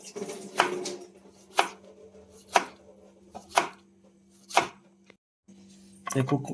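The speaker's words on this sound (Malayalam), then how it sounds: "അടുത്ത് നമ്മൾ കുക്കുംബറ കട്ട് ചെയ്യാൻ പോകുന്നത് ഈ പരുവത്തിന്" A knife cuts cucumber on a board for a sandwich, making about half a dozen distinct, evenly spaced chops close by, with a faint low hum in the background.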